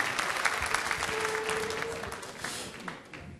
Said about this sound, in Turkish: Alkışlar mıyız efendim?